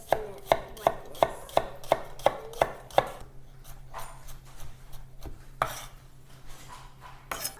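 Knife chopping an onion on a cutting board, a steady run of about eight sharp, close chops at first, then a few scattered cuts and scraping movements.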